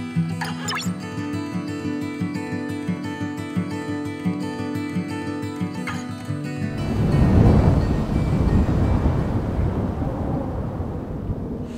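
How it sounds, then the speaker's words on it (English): Stormy autumn weather in coastal Norway, with steady heavy rain and wind roaring as a dense, continuous wash that swells toward the middle; music plays over the first half before the storm sound takes over alone. "Very windy, stormy and constantly raining."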